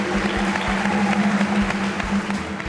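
Studio audience applauding on a Thai relationship and sex advice talk show, a steady dense wash of clapping that stays loud and even throughout with no voices rising above it.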